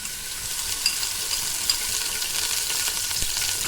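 Ginger garlic paste frying in hot oil for a beef paya dish, giving a constant hissing sizzle with light crackles and a few faint ticks, heard close and without speech.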